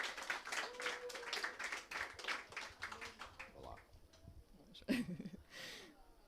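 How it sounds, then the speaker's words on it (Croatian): Audience applause at a Croatian TV talk-show poetry reading: a few seconds of dense clapping that thins out and fades, followed by a lone sharp clap or knock and quieter scattered sounds. "smije jedan aplauz"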